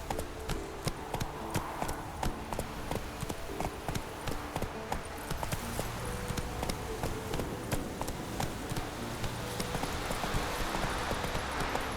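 A horse gallops in the video game The Witcher 3, its hooves beating a fast, steady clip-clop rhythm up close for the whole stretch, alone without talk.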